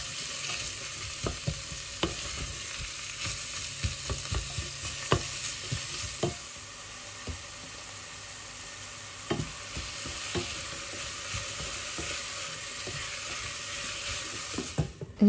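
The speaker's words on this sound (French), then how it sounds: "J'y ajoute ensuite l'oignon haché et je laisse revenir jusqu'à avoir des oignons bien dorés." Chopped onion sizzles steadily in a pan while a utensil stirs it, making repeated scraping clicks. The sound is close and fairly quiet, with no talking.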